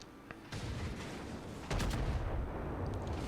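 The battleship Warspite fires its guns in World of Warships, two heavy booming blasts about a second apart, each followed by a sustained low rumble, with no voices.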